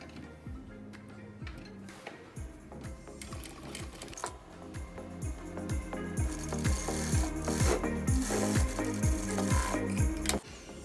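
A sewing machine runs a French seam in tulle fabric, close and rhythmic with a rapid stitching pulse that starts, pauses and builds into a longer steady run, no voices.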